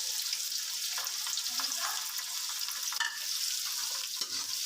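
Onions sauté in hot oil with garam masala and a bay leaf, a steady close sizzle and crackle with occasional stirring scrapes throughout, no talking.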